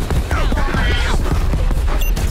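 Rapid video-game gunfire, a loud dense burst of shots crowding together with bright pings and booming low end, all in a short busy stretch.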